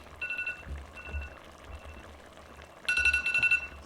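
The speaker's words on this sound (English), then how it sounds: "And that 5-minute timer is up." A five-minute kitchen timer goes off while patchoi with shrimp cooks, giving short electronic beeps in a few spaced bursts, then a louder rapid run of beeps near the end over faint background noise.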